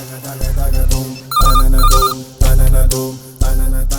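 A loud electronic phone ring repeats in regular bursts, four rings with short gaps between them, no voices.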